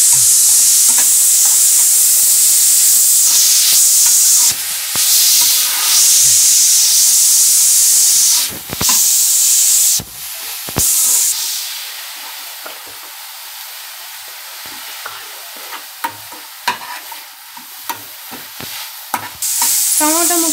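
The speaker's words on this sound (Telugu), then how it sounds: "దీంట్లోకి క్యారెట్ తురుము వేసుకొని బాగా వేయించుకుందాం" Grated carrot frying in a hot pan hisses and sizzles loudly, with stirring scrapes breaking the steady sizzle before it settles into a quieter crackle.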